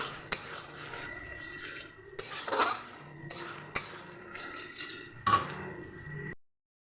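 Spice paste for a fish curry stirred in a pan, with quiet, intermittent scraping and rubbing strokes about every couple of seconds, faint and close, before the sound cuts out.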